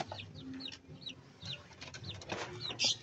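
A brooding hen sits on her clutch of eggs, making soft repeated clucks and low murmuring calls, close and quiet, with a sharper squawk near the end.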